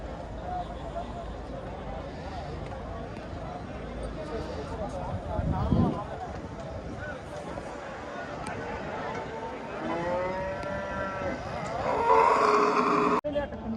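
A jet-black buffalo at the Rampura Phul livestock market lows over a constant murmur of outdoor market noise, while people talk nearby.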